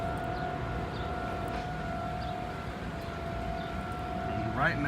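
An outdoor civil defense siren sounds during a test, heard from a parking ramp. It gives a steady two-tone wail at moderate distance over background noise, with a short chirpy sound near the end.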